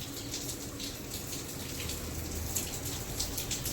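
Steady rain falls outdoors as a soft, even patter and hiss of drops, fairly faint and continuous, with no voices heard.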